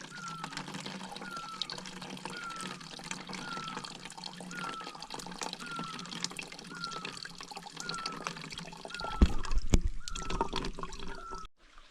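Water trickling and dripping steadily as a Sawyer filter fills bottles from a jungle stream in Laos, close and continuous, with a louder burst of splashing near the end.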